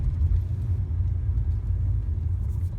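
A 1984 Chevrolet Monte Carlo SS V8 of about 175 horsepower cruises along with a deep, steady low rumble. The exhaust drone is constant and close, with no talk over it.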